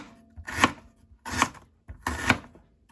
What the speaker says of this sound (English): then you slice them